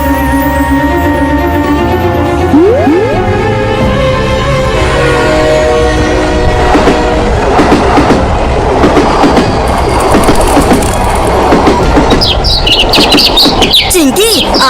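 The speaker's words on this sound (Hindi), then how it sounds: "आखिर ये चिड़िया इतना बोल क्यों रही है?" In a cartoon, a bird chirps repeatedly over the loud clatter of a rolling train, the chirping growing busier and denser toward the end.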